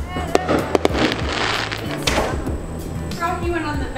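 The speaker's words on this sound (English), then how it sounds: "shooting fireworks all week" Outdoor fireworks popping near a house, several quick sharp bangs early on followed by crackling bursts and fading hiss, heard under nearby speech.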